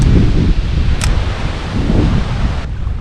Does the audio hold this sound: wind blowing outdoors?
yes